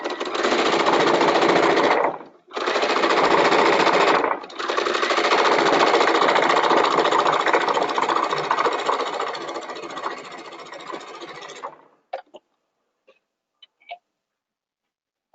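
A sewing machine runs fast and close while gathering a blue netting layer for a tutu, buzzing steadily in three long bursts with short pauses, then stopping into near silence.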